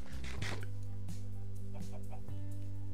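Chickens clucking in a farming video game, a few short soft clucks over a steady low hum of game background audio.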